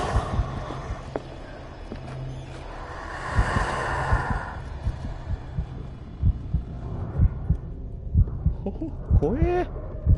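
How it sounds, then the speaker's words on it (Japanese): Slow, steady heartbeat thuds from the horror video game Call of Cthulhu pulse rhythmically over a dark ambient drone, with a few sharper game effects toward the end. "もしかして心音に反応してこっち来てんの？"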